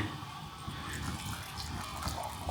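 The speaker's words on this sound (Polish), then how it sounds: "zalewamy najpierw gorącą wodą, żeby się nagrzały" Hot water pouring steadily into cat bowls to warm them, a continuous close splashing stream with a brief louder clunk at the very end.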